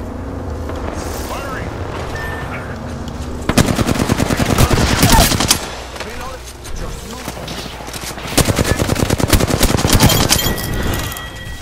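Sustained automatic gunfire in Apex Legends, two long rattling bursts of rapid shots with a quieter gap between them.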